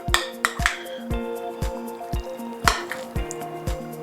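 Rice being stirred into a pandan mixture for mango sticky rice makes close, soft, wet squishing and scraping strokes with a few sharp clinks of a utensil against the bowl, repeated in an uneven rhythm.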